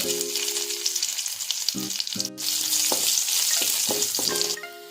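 Crushed garlic fries in hot oil with popped mustard seeds and lentils, a continuous close sizzle with soft stirring knocks and a few tonal background notes, and no talking over it.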